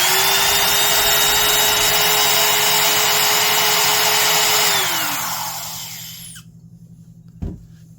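A Porter-Cable 7301 laminate trimmer fitted with new bearings runs with a smooth, steady whine at full speed. It then spins down over about two seconds and falls silent, and a single faint knock follows.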